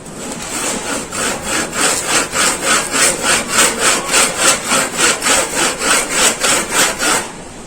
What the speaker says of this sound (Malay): Kita akan start menggergaji pada bahagian yang kita tanda tadi lah.